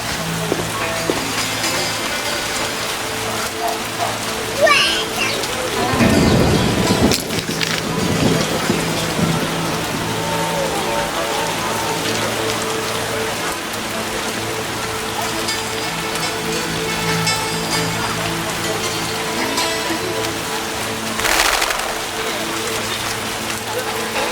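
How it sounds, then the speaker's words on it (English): Steady heavy rain pours throughout The Witcher game scene, with a dense constant hiss and a couple of brief louder crackling swells that could be distant thunder. "Some serious rain."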